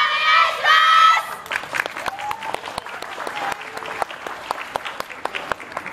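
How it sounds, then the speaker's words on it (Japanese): At a yosakoi dance festival in Morioka, a crowd cheers and shouts, then the audience claps along in crisp, evenly spaced rhythmic beats while a few voices call out over the clapping. "お手拍子よろしくお願いします。"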